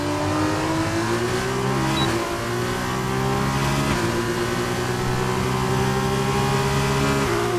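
Race car engines in the rFactor 2 sim racing game at the Austrian GP, a steady loud engine drone with stacked harmonics that dips and climbs again at a few gear shifts across the run, with no talk.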